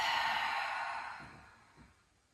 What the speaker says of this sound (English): Maybe take a deep breath.